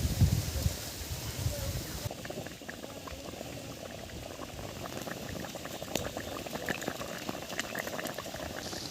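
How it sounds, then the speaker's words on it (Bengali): An egg omelette curry broth with potatoes bubbles steadily in a pot, giving a continuous close, busy boiling and simmering texture with no talking. "ঝোল ফুটে গেছে"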